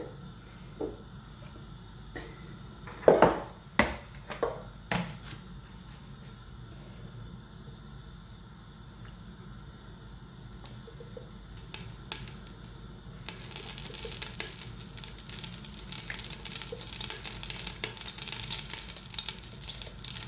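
Five tablespoons of oil in a pan set on the stove, heating for mutton biryani: a few sharp metallic clinks at first, then a steady, close, bright sizzle and crackle that swells in the final seconds, with no one speaking.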